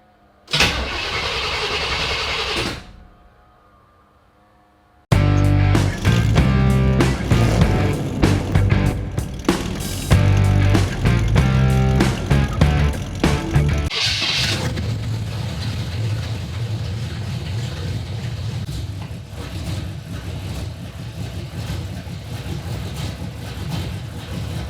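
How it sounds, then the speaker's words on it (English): A car engine cranks and catches, then settles into a steady, loud running note as the car pulls away, easing into a softer continuous hum; no talking. "So move this car out of here."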